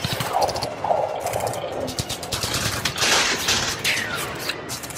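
Gunfire from a single-player video game: scattered bursts of shots and sharp cracks over a busy, loud background of in-game action, with no clear talking.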